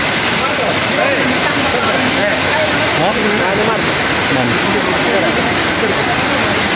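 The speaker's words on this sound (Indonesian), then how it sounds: "Ini terjunannya ini ya." An underground river pours over a waterfall inside a pitch-dark cave, a loud, constant roar of rushing water filling the space, with voices faintly under it.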